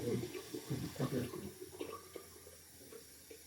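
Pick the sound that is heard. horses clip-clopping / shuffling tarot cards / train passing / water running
water running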